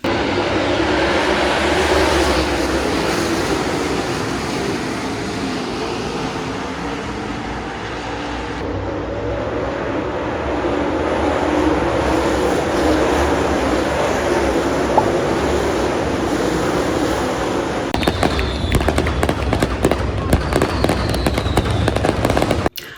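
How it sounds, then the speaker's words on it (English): A steady, loud mechanical hum with broadband roar runs throughout from a giant grain bin vacuum sucking out grain or beans, with some clattering noise toward the end. "they basically use this giant vacuum to suck out the grain or the beans"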